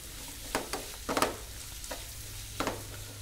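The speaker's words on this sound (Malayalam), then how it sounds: "ഇതിനുശേഷം നമുക്ക് നന്നായിട്ടൊന്ന് വഴറ്റിയെടുക്കാം." Onions being sautéed in a pan for chicken curry give a soft, quiet sizzle, broken by several short scraping stirs of a spoon against the pan.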